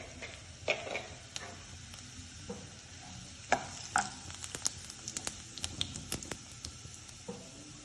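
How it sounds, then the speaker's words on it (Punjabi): Cumin seeds sizzling in hot refined oil in a pan, a steady close crackle with scattered sharp pops and spoon taps over a low background hiss. "ਜਿੱਦਾਂ ਹੀ ਜੀਰੇ 'ਚ ਆਵਾਜ਼ ਆਉਣ ਲੱਗ ਪਏ"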